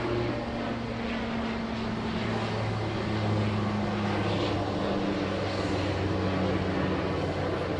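A Qantas Link aircraft takes off at Sydney Airport, its engines a loud, steady roar with a low droning hum that holds throughout.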